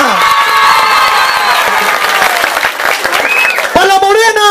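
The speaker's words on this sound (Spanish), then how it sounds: "¡Aplausos para la rubia!" Loud clapping and cheering break out from a crowd at a PRI territorial movement posada in Villaflores, with shrill whoops and excited yelling voices rising over the applause.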